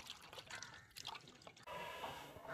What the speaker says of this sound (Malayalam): ഒരുപാട് വെള്ളത്തിൽ കഴുകണം എന്നാലേ ഈ നെത്തൂലിയുടെ അഴുക്ക് പോവത്തുള്ളൂ